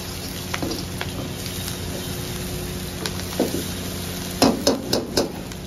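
Cut vegetables for chilli chicken are stirred in a pan over a soft background hiss, with sporadic faint scrapes and then a quick run of louder clanks from the utensil near the end.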